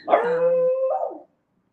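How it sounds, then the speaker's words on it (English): A beagle puppy lets out one drawn-out, wavering howl, close by and fairly loud, that rises and then trails off. "There's my beagle."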